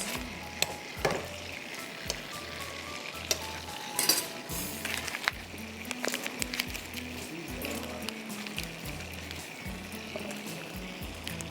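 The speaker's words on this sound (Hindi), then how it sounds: "इसमें आप मटर फ्राई कर लीजिए 5 मिनट के लिए।" Peas sizzle in hot oil in a pan while a spoon stirs them, giving a steady soft frying hiss under repeated light scrapes and clinks of utensil on the pan, with no talk.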